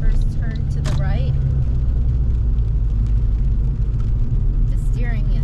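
A Saab 9-3 convertible drives and takes a right turn with a steady, close engine drone and road rumble throughout, while someone talks over it.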